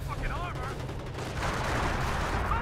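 Mortar and gunfire strike a base in the World War II strategy game Company of Heroes, with dull booms and a steady crackle of shots over a low rumble, under faint voices.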